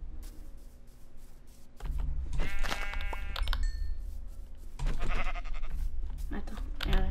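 Sheep bleat in the Minecraft game, several short wavering bleats heard close by over background noise, with people talking throughout.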